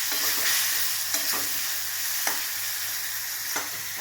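Masala and chopped tomato roasting in hot oil for a dhaba-style dal makhani give a steady, close sizzle, with a few sharp scrapes and stirs of a spoon breaking through at irregular intervals.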